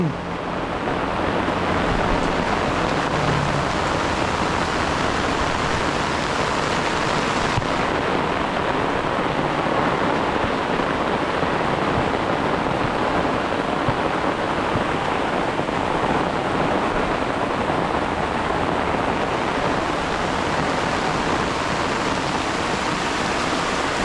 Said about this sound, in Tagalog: Ang sarap dito sa may ulan.